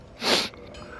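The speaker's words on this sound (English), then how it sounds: "Oh, hold on, I gotta sneeze." A single close sneeze from one person, a sharp breathy burst lasting about a third of a second, followed by quiet room tone.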